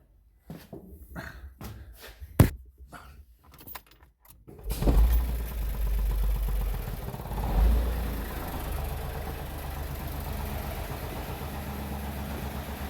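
A Smart Fortwo MHD with a fault is started after some key jangling and clicks, then the engine settles into a steady, moderate idle hum close by for the rest of the clip.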